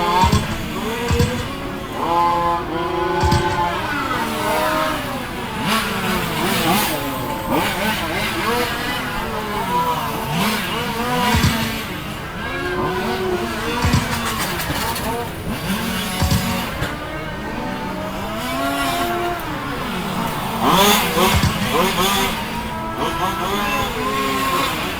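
Radio-controlled race cars lapping a track at a regional race: high-pitched electric motors whine and rise and fall continuously with tire scrubs as cars pass, under a steady announcer's voice.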